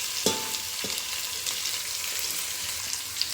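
Beans, potato and green chillies frying in oil for veg dum biryani, a steady close sizzle with a couple of sharp metallic stirring clinks near the start and no speech.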